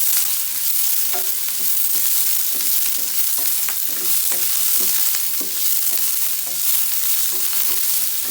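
Paneer fries in a hot pan for aloo matar paneer, a bright continuous sizzle broken by a series of light scraping knocks as the pieces are tossed and stirred.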